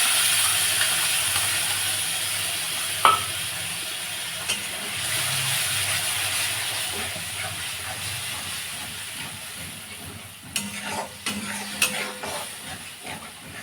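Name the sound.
spice paste frying and being stirred in oil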